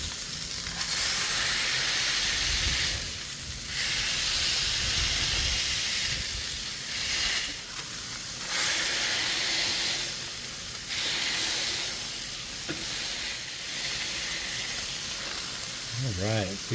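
Burger patties of 80/20 beef searing on a Blackstone griddle, a loud steady hiss and sizzle that swells and dips in waves, with a brief scrape near the end.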